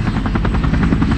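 Bell UH-1 Huey military helicopter flying, its steady, loud rotor beat thumping in a fast even rhythm over a deep engine drone, close and continuous with no voices.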